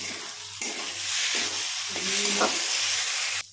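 Potatoes, chickpeas and soya chunks being stirred in a pan for a Bihari-style curry, with a steady sizzle and soft scraping strokes, close up and alone.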